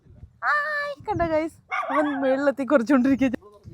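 Dogs bark and yelp in a UK village, several close, loud, tonal barks in quick bursts, with a voice speaking at times.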